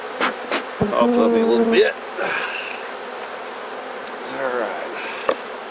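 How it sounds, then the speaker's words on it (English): Honey bees swarm around an opened, busy beehive during an inspection, a steady close buzz that carries throughout, with someone briefly speaking over it. "This is a busy hive."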